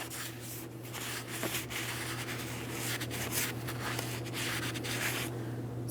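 Clean rag wiping a brake rotor with parts cleaner on a 2008-2016 Chrysler Town & Country, steady close rubbing and scrubbing strokes over a constant low hum, with no talk.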